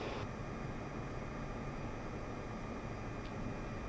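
A Pilatus PC-12NG turboprop climbs out after takeoff from Goshen; a steady, loud broadband cabin drone of engine and airflow holds evenly throughout, with no talk.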